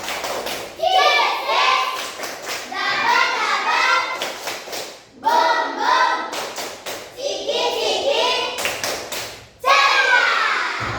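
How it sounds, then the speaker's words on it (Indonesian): A primary school class performs the tepuk ceria clapping chant, bursts of children's rhythmic clapping and chanted voices in three loud rounds separated by brief pauses, close by in a classroom. "sekali lagi kita akan melakukan tepuk ceria"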